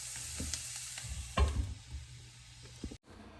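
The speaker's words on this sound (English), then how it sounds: "We will cover it and let it get soft for about 5 minutes." Onions softening in oil in a covered pan give off a low, steady sizzle, with a few soft knocks and a louder clatter partway through, likely the lid being handled, then quiet frying again.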